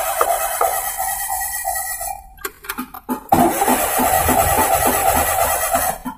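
A Maruti Suzuki Alto BXI with no spark cranks on its starter without firing. The rhythmic starter churning runs at a steady pulse, breaks off briefly and then resumes, loud and close, with no talking.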